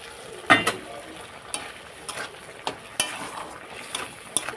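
Taro (kochu) simmering in a home kitchen pot with hot water added, giving a quiet bubbling hiss broken by a few sharp clinks and splashes at irregular intervals, fairly close and low in level.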